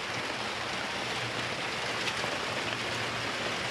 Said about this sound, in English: God, this rain.